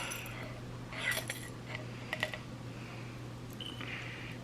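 Peppercorns dropped into a canning jar for water bath pickled cherry tomatoes, giving a few small, quiet clicking rattles in short bursts over a steady low hum.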